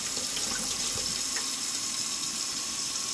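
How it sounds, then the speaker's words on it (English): Water from a tap runs steadily into a small-mouthed water bottle being rinsed, a continuous close splashing rush with no pauses and no talk. "so if I was just to rinse this out, I'll just do it just for the heck of it"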